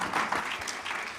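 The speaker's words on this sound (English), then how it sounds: "A round of applause for yourself." Conference audience applauding, a quiet, diffuse wash of many hands clapping heard from a distance, brief and fairly faint.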